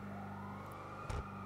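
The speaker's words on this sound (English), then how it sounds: "I hear the sirens, but I think they're on the freeway." Faint police sirens sound far off in a police roleplay video game, a thin steady wail over a low engine-like hum, with a short dull thump near the end.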